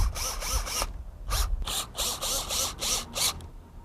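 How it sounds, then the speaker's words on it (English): Foundation screws are driven through a U-rail into a wood foundation base of a Sunglo Model 1000C greenhouse, heard as quick, rapid ratcheting bursts with short pauses between them, close and moderately loud. "place it into the pilot hole, and secure the U-rail to the wood foundation base"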